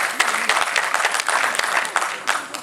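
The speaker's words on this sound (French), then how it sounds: "On applaudit quand même pour la vidéo" A seated audience at a Brussels gathering claps together in a thick, lively round of applause, loud and close, with slight swells in intensity.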